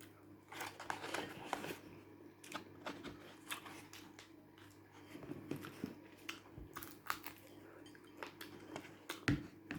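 Corn on the cob bitten without hands, heard as faint, close, crisp crunching bites and small chewing clicks scattered unevenly through a quiet room.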